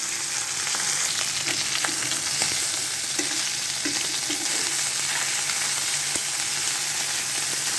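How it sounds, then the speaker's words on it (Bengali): Fish frying in a pan of hot oil, a steady close sizzle with crackles and small pops running throughout, no voices. "আমার মাছগুলো সব সুন্দর করে ভাজা হয়ে গেছে"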